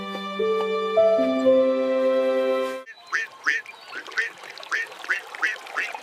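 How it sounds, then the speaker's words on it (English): A series of short, rhythmic quacks from ducks swimming in a park repeat at a steady pace, preceded by a sustained tonal musical drone. "Look at the ducks."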